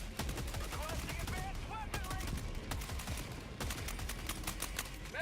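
Rifle fire in Helldivers 2 emptying a magazine, a rapid continuous stream of crackling shots amid a busy battle with chirping effects, faint and somewhat distant, a voice speaking over it.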